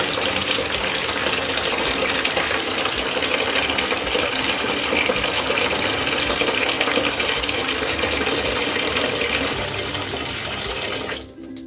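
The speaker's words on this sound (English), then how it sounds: "So in this basin I'm just catching some water." Water from a tap runs into a basin being filled to soak crochet faux locs. The gush is loud and continuous, holds steady for about eleven seconds, and stops abruptly at the end.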